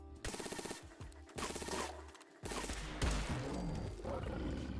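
Laser revolver fire against a Deathclaw in Fallout 4, with loud dense bursts of energy shots and impacts mixed with heavy creature roars across the whole stretch, no talking.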